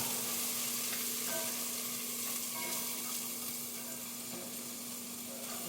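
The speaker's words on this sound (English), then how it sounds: "Just sauteing them down, let them do their thing in a cast iron skillet" White and red onions sauté in a cast iron skillet, giving a continuous, even sizzle at moderate level with faint stirring underneath and no talk.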